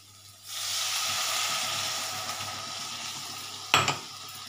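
Water poured into a pan of sizzling spice paste for a Bengali potato and soya chunk curry sets off a loud, steady hiss that holds for several seconds, ending in a sharp clatter near the close.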